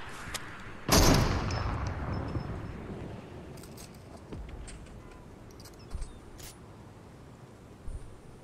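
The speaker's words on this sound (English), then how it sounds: "I just sent a rocket at them to be annoying" A rocket fired at enemies in a video game bursts as one loud, close blast near the start, then a long rumbling decay, followed by a few faint pops and clicks.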